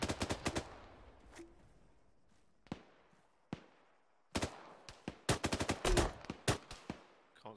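Bursts of automatic gunfire in an ARMA military-simulation co-op firefight: a rapid volley, then isolated single shots, then a denser stretch of loud, close cracks with echoing tails, with no voices over it.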